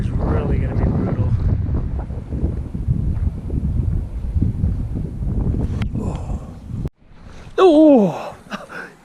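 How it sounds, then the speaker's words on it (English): Strong, gusty wind at Ruby Lake in the Eastern Sierra roars into the microphone as a loud continuous rumble, cutting out briefly before a harsh buffeting blast near the end. "This wind is really going to be brutal."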